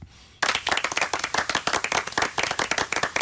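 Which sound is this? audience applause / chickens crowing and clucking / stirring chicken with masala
audience applause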